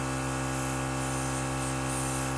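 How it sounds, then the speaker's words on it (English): Airbrush powered by a Temptu 2.0 compressor spraying makeup, a continuous close, even hiss over the compressor's steady hum, with no talk. "I'm gonna spray my eyelid and a little bit above."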